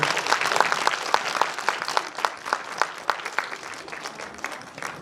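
Scattered clapping from a modest audience at a kindergarten year-end show's Kaaba rondo performance, sharp individual claps repeating steadily at a loosely even pace, fairly faint and without talk.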